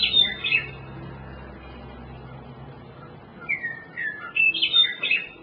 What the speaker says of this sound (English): western meadowlark.